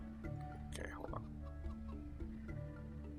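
Chickens clucking in the video game Stonehearth, a few short game-sound clucks heard over a steady background hum of game music and ambience.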